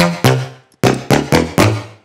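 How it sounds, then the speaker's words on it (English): Layered trumpets fattened with the Sausage Fattener plugin in Ableton, blasting out five loud, punchy brass stabs in a clipped rhythm, the first standing alone before a short gap and then four in quick succession, thick and bright with no talk. "together sounds like there's like a couple of trumpets there just blasting through"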